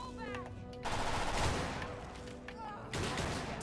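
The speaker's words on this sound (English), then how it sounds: "Oh, that's a machine gun." Machine gun fire in modded Skyrim: sustained rapid bursts of automatic gunfire, loud and dense, with brief gaps and a voice talking over the shooting.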